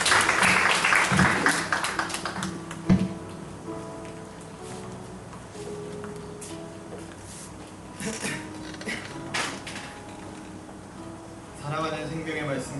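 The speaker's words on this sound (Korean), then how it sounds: "우리 박수로 맞이하도록 하겠습니다" A church congregation claps at a Sunday service and baptism, welcoming someone forward to give a testimony. The clapping is loud at first and then thins, with scattered claps and some background voices.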